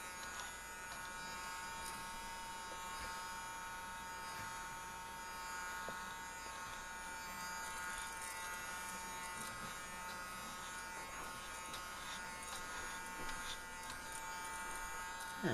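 A small handheld vacuum runs steadily, suctioning up spilled salt grounds and debris, its high motor whine holding constant at moderate level throughout.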